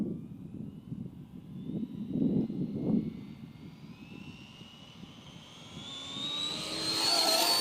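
A belt-driven Limitless RC drag car on a speed run, its motor whine rising in pitch as it approaches, loud and close toward the end over a steady outdoor rumble.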